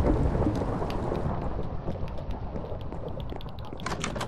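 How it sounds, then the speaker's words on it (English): Video game thunderstorm: heavy rain pours steadily while a deep rumble of thunder rolls and slowly fades, with scattered drops pattering nearby; no voices. "That was a bad storm. Terrible storm."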